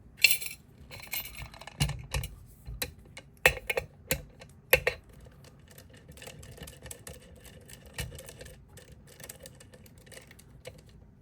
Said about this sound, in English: Let's go ahead and get our pan of ice here.